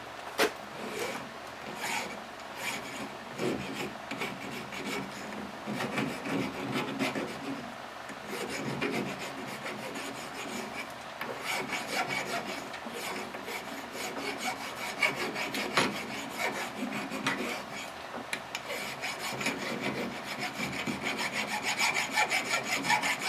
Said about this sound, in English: File over here. Do some deburring right now.